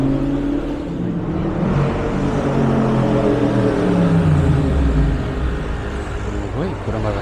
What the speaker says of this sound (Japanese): ランボルギーニがブイブイ言ってる。